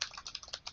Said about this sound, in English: that's why we are typing these statements